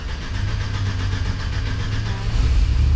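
A large bus engine rumbles close by at a loud, deep, uneven idle just after starting, holding steady for a few seconds with no talking over it.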